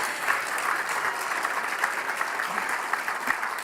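Sustained audience applause at a Camp Fire Columbia live event, steady dense clapping from a large crowd that holds at an even level for the whole stretch, with no voices standing out above it.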